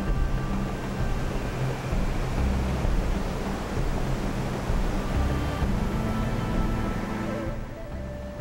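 The Iguazu Falls waterfall roars as a steady, dense wash of rushing water that fills the scene evenly from start to finish.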